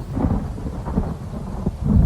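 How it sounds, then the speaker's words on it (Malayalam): Deep, rumbling thunder before rain in a radio drama rolls low and heavy, swelling and fading in waves with a faint hiss of rain beneath. "മഴ വരുന്നു"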